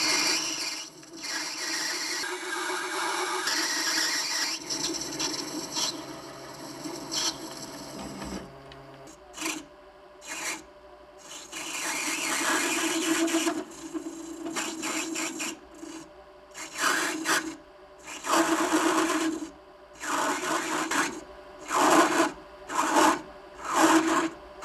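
A mini lathe chatters while cutting, first a continuous scraping, squealing rasp, then a run of short bursts of grinding separated by pauses, close and moderately loud, with no speech.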